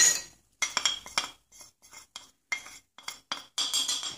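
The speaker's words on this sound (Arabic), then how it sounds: "غادي نخلط حتى يذوب ليا غير السكر" A spoon stirs a sugar mixture in a bowl to dissolve the sugar, giving a run of quick, close clinks and scrapes that come in short bursts with brief pauses between them.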